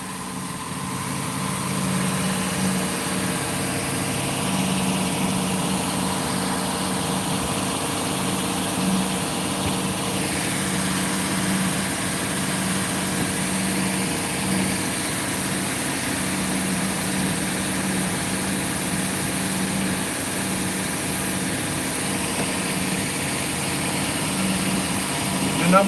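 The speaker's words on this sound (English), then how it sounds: "Engine number one is running." Engine number one idling steadily, a continuous even hum with faint rhythmic vibration, moderately close and unchanging throughout, with no voices over it.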